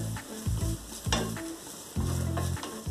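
Ginger and garlic sauté in a pan, with a continuous sizzle broken by several short, close stirring scrapes and clatters over three seconds.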